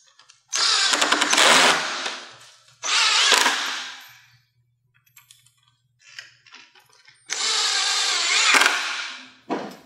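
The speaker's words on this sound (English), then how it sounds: "I can at least drill this into our fake door" A power drill drives into a wooden door jamb in three loud bursts of whirring and grinding, separated by short pauses with small clicks, close up with no talk.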